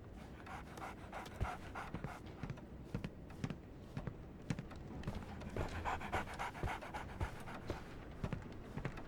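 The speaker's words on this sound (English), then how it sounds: "Oh, the doggy." Rapid, rhythmic dog panting from a Sherlock Holmes video game, steady and fairly close throughout, with occasional soft thumps and footstep-like taps over a low background bed.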